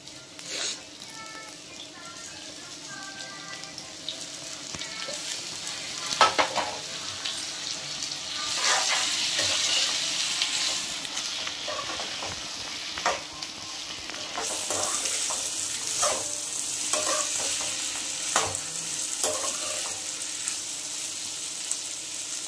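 Tomato pieces frying for Andhra kanda pulusu, a continuous sizzle with scraping stirs and brief clatters, a voice speaking faintly in places.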